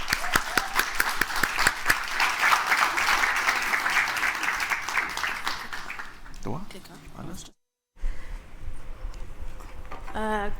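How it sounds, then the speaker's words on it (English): A conference audience breaks into sustained, dense applause for a speaker, loud and steady for several seconds before fading, with a brief silence and then voices and room noise as the speaker begins. "Make some noise for Zainab"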